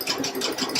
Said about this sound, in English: use my foot control, and I'm just going to do a satin stitch all the way around his face